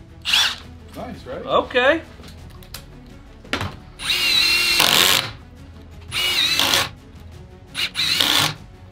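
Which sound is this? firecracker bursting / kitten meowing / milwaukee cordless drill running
milwaukee cordless drill running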